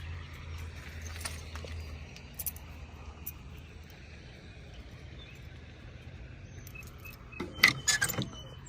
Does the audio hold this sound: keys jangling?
yes